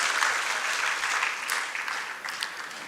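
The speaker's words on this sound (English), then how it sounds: "Please give a big round of applause to him." Audience at an educational symposium for students applauds steadily, a dense wash of clapping that stays even and slowly fades toward the end.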